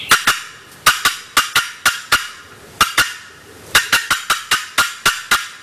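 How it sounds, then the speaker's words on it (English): Sharp, irregular turkey-hen clucking cuts struck on a wooden box call, loud and close, coming in quick uneven bursts with short pauses between. "Now for cutting, this is the way to cut on a box call."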